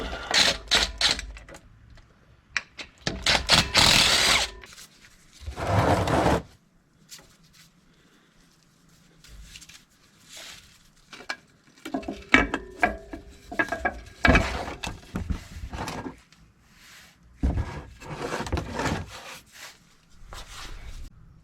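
Last bolts being backed out of a differential cover on a Ford Bronco on a concrete floor, a run of metallic ratcheting and clicking bursts with pauses between, fairly close and moderately loud.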